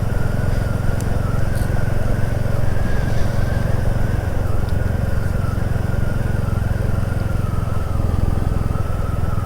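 A Royal Enfield Classic 350 motorcycle engine drones steadily and loudly while riding, a constant low rumble with wind noise and no pauses.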